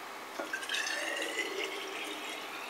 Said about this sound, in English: So we're going to fill up with water.